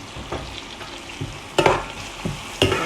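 Onions sweating with salt and pepper in a pan for ratatouille, a soft steady sizzle with a few louder stirring scrapes and clatters, close and without talk.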